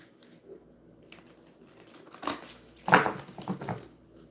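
A deck of playing cards being shuffled, with soft papery riffles and crinkling bursts building to a louder flurry near the end, close up and without talk.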